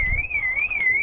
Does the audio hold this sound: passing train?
no